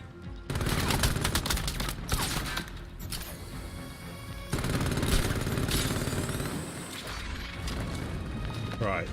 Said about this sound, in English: Would you please stop shooting on me?